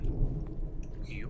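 A lightning strike's thunder in the horror game Through the Woods: a short, heavy low rumble close by, with a faint high squeal trailing at the end.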